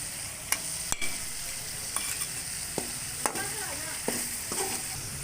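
Tomatoes and green chilies fry in a pan of masala for ridge gourd sabzi, a soft steady sizzle punctuated by a spatula scraping and tapping every second or so, with no talking.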